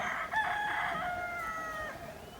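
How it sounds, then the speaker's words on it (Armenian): Roosters crow in a farmyard on an overcast evening, one long crow clear over a steady background hiss with other fowl faintly audible, and nobody speaks. "Աքլորները շատ են էլի"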